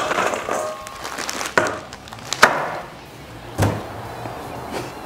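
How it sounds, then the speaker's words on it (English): Dim sims tipped from a plastic bag into a bowl land with several dull thumps and knocks, separated by quieter rustling and handling noise, heard close up. "dump the dimmies into a bowl."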